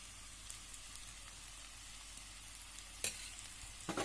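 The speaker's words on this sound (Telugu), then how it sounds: "దీన్ని కూడా మనం కలుపుకున్నాం బాగా" Chili powder being stirred into a bitter gourd curry in a pan, a soft steady sizzle with faint scraping, plus a sharp clink of the spoon against the pan near the end.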